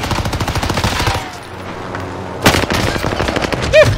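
Rapid automatic gunfire in Call of Duty Warzone on Rebirth Island, loud bursts of shots at the start and again near the end with a quieter lull between.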